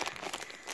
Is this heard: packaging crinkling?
yes